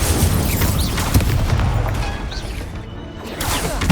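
Incendio fire spell cast in Hogwarts Legacy, a loud fiery whoosh and booming burst amid dense, overlapping combat impacts throughout.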